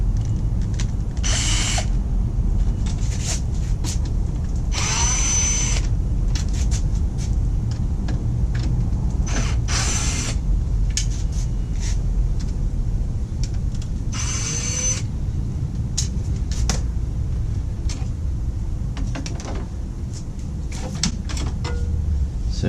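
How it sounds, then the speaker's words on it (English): Screws being worked loose from a grill spoiler on a Corrado, with bursts of tool whirring and clicks spread across a steady background of low rumble. "So I've got 4 screws holding it in place. I'm going to release those and the grill should pop out."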